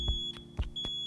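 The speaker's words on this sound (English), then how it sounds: "When testing your smoke detector, you want to make sure that you push the test button." A smoke detector sounds its test beep, a sharp, high electronic tone repeating in short pulses close by, with faint clicks between the beeps and no talking.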